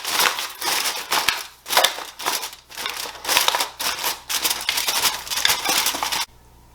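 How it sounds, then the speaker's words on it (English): Tin foil is crinkled and pressed over a meatloaf in a baking dish, giving loud, close, continuous crackling rustles in uneven bursts for several seconds before stopping abruptly. "I'm going to cover this with some tin foil."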